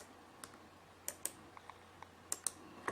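Soft, sparse keystrokes on a computer keyboard, close and quiet, tapping irregularly against a faint background hum.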